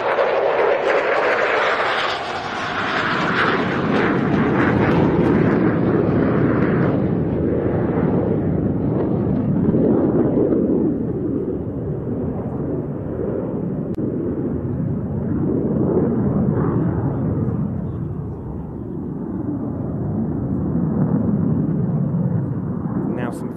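Turkish Solo Turk F-16 jet on a knife-edge pass at an airshow arrival day, a continuous loud roaring engine rumble swelling and fading across the pass, with a commentator's voice talking over it.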